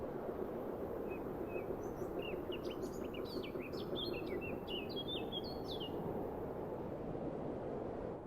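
Black-capped chickadees give quick, high chirps and short whistled calls in a Canadian wild setting, faint and scattered above a steady low rumbling background.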